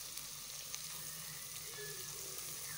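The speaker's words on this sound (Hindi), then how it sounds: "अभी अच्छी तरह से इसमें ऑयल में फ्राई हो चुका है" Onions frying in oil for kadhi pakora give off a soft, even sizzle with light crackles, a gentle continuous hiss with no voices.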